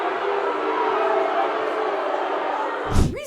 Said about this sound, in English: People actually booed him.